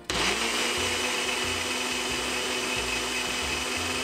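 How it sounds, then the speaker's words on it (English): Blender whirring through a vegan cheese sauce for a spaghetti squash mac and cheese, starting abruptly and running loud and close with a steady motor whine and slight pulsing churn, no voices. "and then we're gonna blend."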